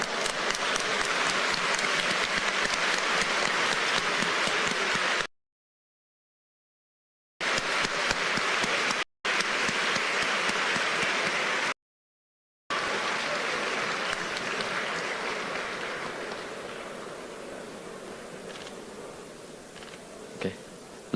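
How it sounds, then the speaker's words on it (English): Sustained audience applause for Taiwan's President Tsai Ing-wen at an American Chamber of Commerce event, dense and steady, broken by several abrupt silent gaps and fading slightly toward the end. "Please give a round of applause to the President of the Republic of China, Her Excellency,"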